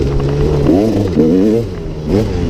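A KTM EXC 300 dirt bike engine revving hard and close, snapping up and down through several quick throttle blips with a rattly two-stroke buzz.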